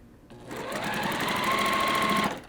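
A sewing machine stitches small quilt block pieces with a quarter-inch seam, running in one steady, close, loud burst of rapid needle rhythm for about two seconds, with no talking over it.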